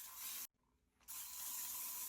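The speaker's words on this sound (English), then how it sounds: "Then I will hairspray it in this position" Hairspray mists onto curtain bangs in two close, loud hissing bursts separated by a half-second pause, with no talking.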